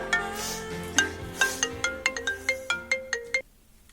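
A melodic telephone ringtone plays for an incoming call, a quick run of bright chiming notes for about three and a half seconds before it cuts off, loud and close with no talk.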